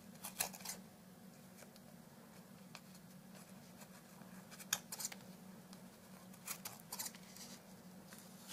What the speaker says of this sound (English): Once again, cut the excess away.